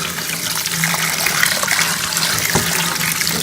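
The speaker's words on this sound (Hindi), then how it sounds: "साग को हम चन्नी में छान लेंगे और इसके ऊपर हम ठंडा पानी डाल देंगे।" Cold water poured from above over saag greens sitting in a strainer, a close, steady splashing gush lasting a few seconds with no talk.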